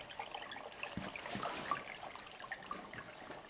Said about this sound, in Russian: Слышно, как бурлит вода.